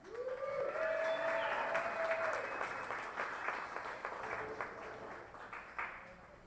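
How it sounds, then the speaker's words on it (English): Dense applause from an audience at a Dallas bike story night as a speaker comes up, loud and steady at first and then slowly thinning, with a brief whistle or cheer rising early on. "give a round of applause for Fernando"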